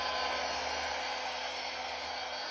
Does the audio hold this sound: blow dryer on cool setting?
yes